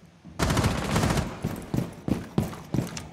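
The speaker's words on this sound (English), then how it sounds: "Just using his pistol." Pistol shots fired in Rainbow Six Siege on the Coastline map during a bomb match: a dense burst of rapid firing, then four separate sharp, loud shots spaced about a third of a second apart, close and alone.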